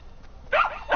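A dog gives a short burst of yips and barks, loud and close indoors, with two quick bright calls within one second.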